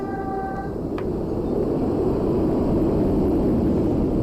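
A Class 484 train on the Island Line in Train Sim World 2 passes by with a steady broad rushing roar and low rumble that holds evenly throughout, after a brief tonal chime near the start.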